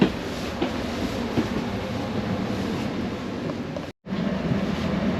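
An Amtrak Pacific Surfliner train pulls out of Anaheim, California, heard from on board as a steady low rumble and rolling hiss, with a brief dropout near the end.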